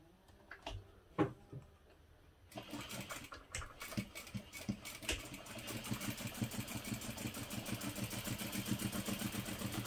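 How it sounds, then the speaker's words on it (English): A sewing machine stitches around a box on a pouch at a short stitch length, starting with a few clicks and thumps, then settling into a rapid, even mechanical patter that grows steadier and slightly louder, close by. "I'm just going to sew directly around this box."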